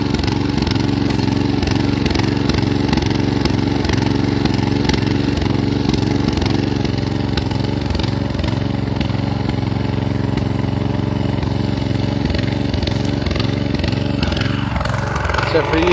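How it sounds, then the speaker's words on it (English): Borrowed gas weed whacker engine running with a loud, close, steady rattling two-stroke drone, the pitch shifting slightly near the end, with a voice heard over it. "See if we can get this borrowed weed whacker to start up"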